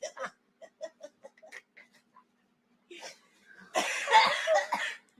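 Harsh, noisy bursts of coughing and throat clearing, loud and close, come near the end after a stretch of casual chatter and light laughter.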